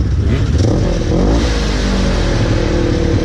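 A Baja rally car at the Dubai International Baja Rally revs its engine close by, a loud, continuous rasping roar that swells and holds, with no talking.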